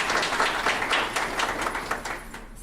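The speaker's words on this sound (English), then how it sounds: "To all of our panelists, give them a round of applause." An audience at a panel discussion gives the panelists a round of applause, a burst of many hands clapping that fades slightly toward the end.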